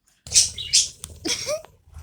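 A small bird gives a few sharp, close chirps and short tweets in quick bursts, with brief pauses between them in a quiet room.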